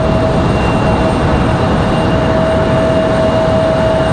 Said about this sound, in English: Triple seven leaving quite heavy, headed back to London.